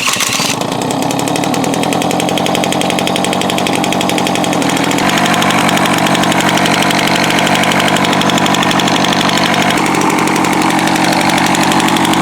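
Close and loud, a Peugeot 103 moped with a 70cc engine runs rough. It makes a continuous buzzy, uneven putter with a knocking pulse, and the pitch shifts slightly partway through.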